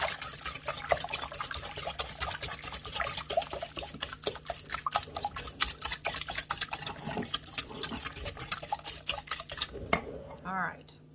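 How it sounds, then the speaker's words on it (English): Eggs for a crustless kale and onion quiche are whisked briskly in a bowl, a rapid run of close metallic clicks and taps against the sides that stops abruptly near the end. "we're going to whisk this up"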